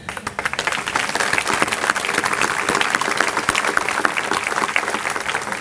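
Applause from a large audience at a school commencement ceremony, a dense sustained clapping that stays loud and steady throughout without any speech.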